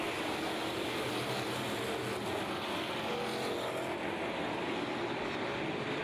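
Hobby stock race cars running three wide on a dirt track, a loud continuous engine roar that swells and fades slightly as the pack passes, heard from a distance with no talk.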